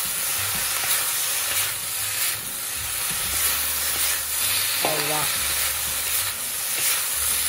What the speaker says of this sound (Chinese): 跟住快炒兜幾下